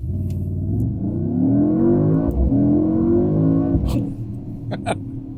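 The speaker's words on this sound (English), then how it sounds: "love to hear that sound. That traditional V8 sound." A 2024 Mercedes-AMG GT 63 S engine revs up with a deep, throaty V8 rumble, pitch climbing as it accelerates to highway speed, then easing off near the end.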